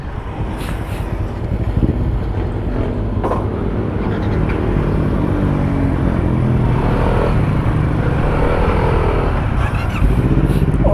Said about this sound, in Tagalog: bago pa pipe ni Vince